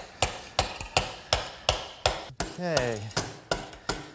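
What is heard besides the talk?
mallet tapping eye bolt into bracket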